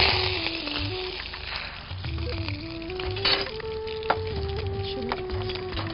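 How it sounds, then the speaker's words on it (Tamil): Mustard seeds, urad dal and curry leaves frying in oil in a small pan, a steady sizzle with scattered crackles and pops and a few clinks of utensil against metal, set against faint background music. "கடுகு உளுந்தம் பருப்பு கொஞ்சமா புரிஞ்சிருச்சு"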